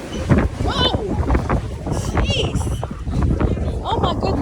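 Gusty wind buffets the microphone at a cruise ship gangway in Long Beach on a cold, rainy day, a loud continuous roar heard under excited talking and exclamations.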